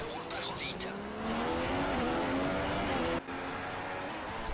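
Formula 2 race cars on a circuit in Spain roar past in a loud, sustained engine drone with a rising pitch, a brief dip near the end, and commentary talk over it.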